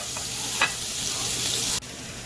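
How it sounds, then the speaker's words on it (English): Vegetables for lomo saltado sauté quickly in a hot pan, giving a steady sizzling hiss that cuts off abruptly near the end, with no talking. "you want to go ahead and saute them really quick"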